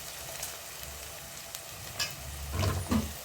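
Onion and garlic sauté in a pan with a low, steady sizzle, broken by a few spoon scrapes and stirs toward the end, close and fairly quiet with no voices.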